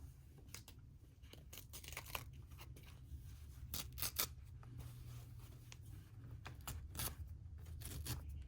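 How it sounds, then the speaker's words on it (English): Tearaway embroidery stabilizer is torn and peeled away from stitched work. Faint papery rips and crinkles come in short bursts and scattered snaps, quiet and close, with no talk. "So now with the tearaway stabilizer, it's much easier to just tear it off."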